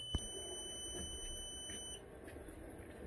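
A single high-pitched electronic beep from a Growatt 6000T solar inverter during a firmware update holds for about two seconds, faint against a quiet room hiss.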